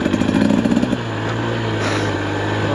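A 2024 TE300 dirt bike engine chugs in quick, rough pulses for about a second, then settles into a steady, close drone.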